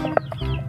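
A hen gives a few short, soft clucks, close by and quiet, over a faint low background hum.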